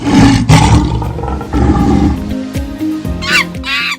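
A lion roars in deep, rough bursts mixed with music, followed by brief higher wavering calls near the end, loud and without speech.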